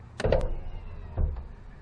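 Two short mechanical whirs and thuds as the power running boards on a 2019 Chevrolet Silverado pickup retract nearby, in an otherwise quiet space.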